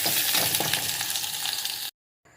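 Spices for a tempering crackle and sizzle in hot oil for a drumstick masala curry. The loud, steady frying runs close up, then cuts off abruptly before a brief quiet tail.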